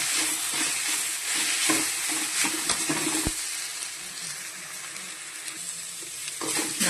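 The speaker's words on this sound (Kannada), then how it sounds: "ಚೆನ್ನಾಗಿ ಫ್ರೈ ಆಗಲಿ." Mint leaves and spices frying in a pan for chicken pulao, a steady broadband sizzle with scattered crackles and a few stirring scrapes, close and continuous throughout with no voices.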